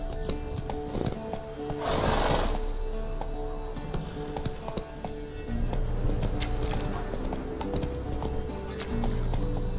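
Roach, Geralt's horse in The Witcher 3, trotting with steady clip-clopping hooves, close and continuous, with a brief louder horse snort or whinny burst early on over soft background ambience.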